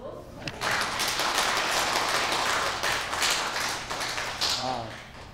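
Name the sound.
welcoming applause in church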